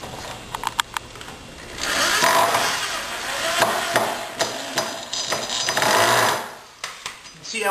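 Power drill driving a screw into wooden formwork at a slow, controlled pace, with a few sharp clicks and taps at the start, then a steady whirring buzz for several seconds that stops, followed by more light knocks.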